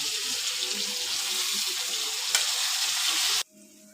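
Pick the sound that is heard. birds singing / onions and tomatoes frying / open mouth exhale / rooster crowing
onions and tomatoes frying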